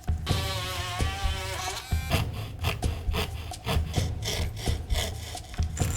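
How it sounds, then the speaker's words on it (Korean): Sanding rasps in repeated strokes against a workpiece being finished, with bursts of scraping friction, occasional knocks and a steady rhythm, close and loud with no talk. "샌딩."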